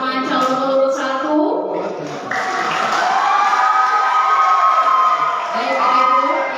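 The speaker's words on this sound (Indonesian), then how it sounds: "berikan tepuk tangan yang meriah untuk pasangan calon nomor urut 1" A crowd at a public election debate in East Sumba cheers for a candidate pair with sustained shouting and raised voices, loud and continuous, dipping briefly before swelling again.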